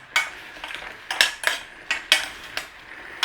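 A spoon scrapes and clinks against a pan while stirring a strawberry rhubarb pie filling, a run of sharp, separate metallic strokes at an uneven rhythm, close and fairly quiet with no talk.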